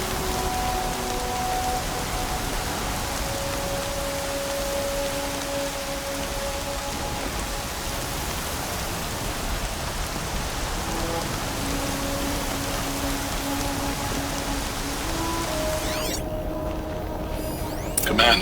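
Steady rain falls in the video game Horizon Zero Dawn, a constant soft hiss of drops spread evenly, with faint tonal game sounds drifting underneath.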